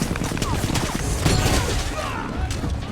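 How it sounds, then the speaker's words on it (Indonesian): Rapid bursts of gunfire in a loud, chaotic film battle scene involving Syrian soldiers, cracks and thuds overlapping with rumbling background noise. "Namun ternyata tembakan dari Grace meleset tidak tepat pada sasaran."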